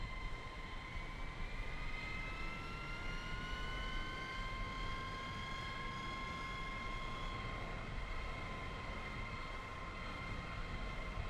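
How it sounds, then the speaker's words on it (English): A Grumman F9F Panther jet in a flight simulator game, set aboard the carrier USS Valley Forge, gives a steady turbine drone with high whining tones that slowly rise and shift, no voices over it. "we are in the Grumman F9F Panther on board the USS Valley Forge CV-45"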